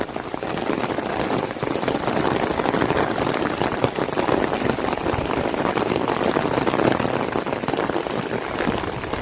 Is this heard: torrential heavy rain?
yes